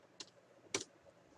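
A computer keyboard in use while typing inputs into a circuit-building program, heard as two isolated, sharp key clicks, close and quiet.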